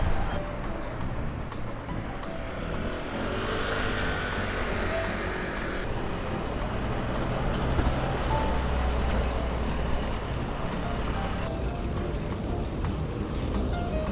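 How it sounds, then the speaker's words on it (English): Loud city street traffic heard from a fixed gear bike, a dense steady roar of passing buses and cars with buzzing scooters, continuous and close throughout. "Some pretty sneaky buses out here with how loud the traffic is. All the scooters buzzing like a horde of bees."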